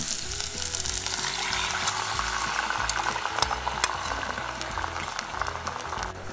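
Steady crackling sizzle of an Asian-style sauce base cooking and thickening in a hot saucepan, continuous and fairly loud, with occasional sharper pops.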